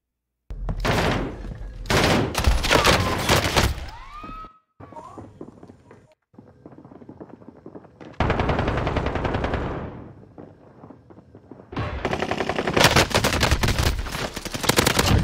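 Rapid automatic P90 gunfire in the video game Valorant, loud dense bursts of shots in several long volleys separated by short quieter gaps, with no talking over it.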